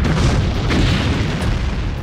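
Deep, loud rumbling blast of a massive asteroid striking Earth with an energy near 65 million megatons of TNT, a sustained roar filling the clip without pause.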